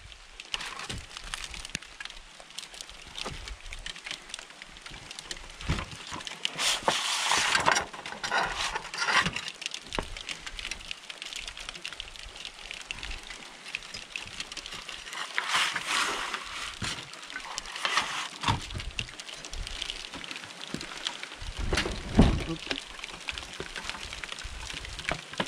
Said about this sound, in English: Come on, rain. Thanks for getting everything wet for me.